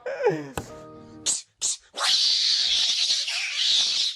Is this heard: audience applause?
no